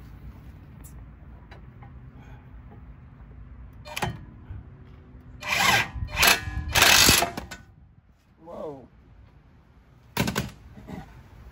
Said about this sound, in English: We're going to tighten these bolts back up for the caliper mount.